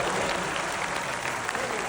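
A crowd at a memorial tribute event for Atal ji claps in a dense, steady burst of applause, moderately loud and uninterrupted.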